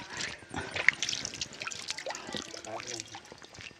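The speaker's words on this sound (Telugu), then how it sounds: "ఎక్కడి నుంచి వస్తున్నాయి నీళ్ళు ఇక్కడ చూడండి" Hill spring water trickles and drips steadily in the open in Lankamala forest with light splashes, while people talk over it.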